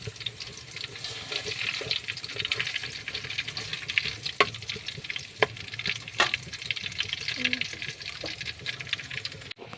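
Shrimp paste (alamang) frying in a pan and being stirred, with a steady broadband sizzle and scattered scraping clicks from the utensil, continuous and close throughout.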